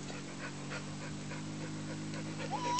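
A dog beside a toddler's slide pants softly and lets out a faint, brief whimper near the end, quiet and close, with no talking.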